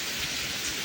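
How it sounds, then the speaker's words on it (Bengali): Heavy rain falls outside a balcony garden, a dense, even hiss that stays steady throughout this short stretch, with no voices. "প্রচুর বৃষ্টি হচ্ছে বাইরে"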